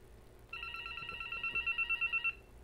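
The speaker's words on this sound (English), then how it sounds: "And right now there's a phone call right there." A telephone rings indoors, a bright electronic trill lasting under two seconds followed by a short run of rapid pulsing beeps, fairly faint against a low background hum.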